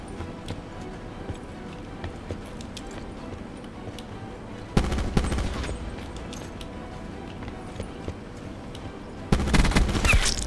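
Bursts of gunfire in the video game Black Ops 4 during an intense one-on-one match: a loud steady rattle runs throughout, then harder, denser volleys break in near the middle and again at the end.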